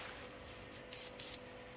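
A paint spray gun backflushes gray and blue paint while a Harley part is being painted: two short, sharp hissing bursts of air, close by, after a fainter puff, over a quiet background.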